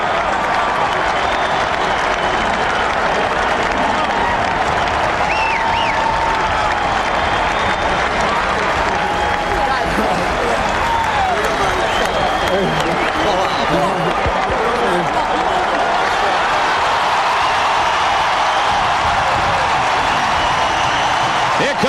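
A huge home crowd at Beaver Stadium roars and applauds during a Penn State football game, a dense, loud, continuous wall of cheering with whistles and shouts that holds steady for the whole stretch.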